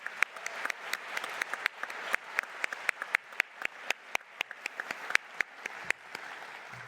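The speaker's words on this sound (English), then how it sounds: "can we give a round of applause to these top 5?" Scattered applause for the top five poster presenters at an ocean science conference keynote. A thin crowd gives sparse, distinct claps that stay quiet and irregular for about seven seconds.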